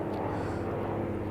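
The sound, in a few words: airplane flying overhead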